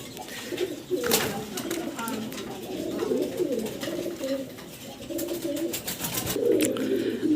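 Pigeons coo over and over inside a pigeon shop, close by, low throaty calls overlapping with some faint chirps and shop background noise.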